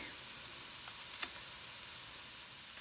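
Carrots, onion, celery and garlic sizzle softly in a skillet with a steady, hissing fry, broken once by a faint tick or clink near the middle, with no talking.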